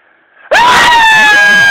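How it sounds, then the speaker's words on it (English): A man lets out one loud, sustained scream that bursts in suddenly after near silence and holds its rising, strained pitch to the end. "this is how you scream"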